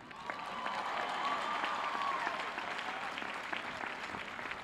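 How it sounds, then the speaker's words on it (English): A high school graduation audience applauds the teachers with steady, sustained clapping that fills the hall, a mid-distance crowd wash with faint cheers mixed in. "Can we also have a round of applause for our iconic teachers that make it possible to be comfortable in our environment?"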